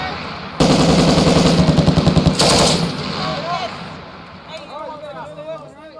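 Rapid automatic weapon fire from Marine infantry training at the School of Infantry East, a loud sustained burst of closely spaced shots lasting about two seconds, then quieter voices and background chatter as the shooting stops.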